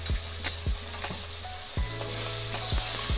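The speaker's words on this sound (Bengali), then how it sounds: "নাড়াচাড়া করতে হবে।" Ground turmeric, salt, cumin, coriander, cinnamon and cardamom sizzle in a pan while being stirred, with a steady frying hiss and repeated scraping strokes of a spoon at a regular rhythm, close and moderately loud.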